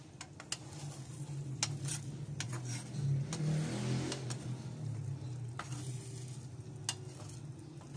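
Herring fries slowly in a pan with a low, steady sizzle, and a few faint stirring scrapes and clicks from utensils break through now and then; no one speaks.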